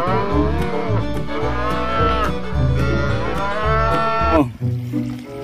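A toy cow lets out a loud, drawn-out electronic moo with a rich harmonic tone that lasts several seconds and cuts off abruptly near the end.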